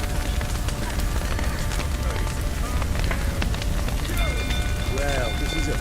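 Steady rain in the video game The Witcher 3, a dense broadband hiss that holds evenly throughout, with voices and other game sounds layered over it.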